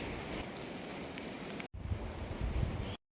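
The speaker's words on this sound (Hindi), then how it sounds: "बारिश लगनी भी शुरू हो गई है।" Rain falls in the mountains of an Uttarakhand village, a steady broadband hiss with some low rumble and wind, briefly cutting out before resuming and then ending abruptly.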